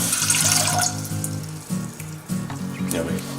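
Water runs from a tap as two cups are measured out for cooking ramen, a steady splashing stream with a low hum and clatter underneath.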